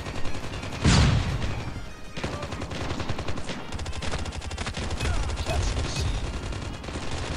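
Loud, rapid automatic gunfire in Call of Duty Mobile, sustained bursts with a sharp blast near the start and almost no pause between shots.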